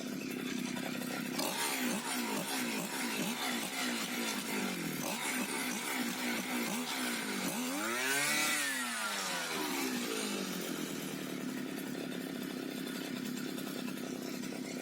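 A petrol brush cutter runs after its carburetor valve was repaired using citric acid. The small two-stroke engine buzzes steadily, then revs up and down in rising and falling sweeps before settling again.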